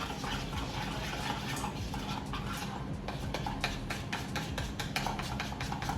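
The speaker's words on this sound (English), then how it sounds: "Rinse out what I used." Running tap water rinses a used spoon at a kitchen sink, producing a steady broadband splash and hiss with scattered clinks and taps near the end, close by and without talk.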